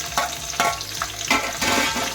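Green chillies hitting hot oil for a tempering give off a steady crackling sizzle with sharper pops and bursts at intervals, close and fairly loud, with no voices.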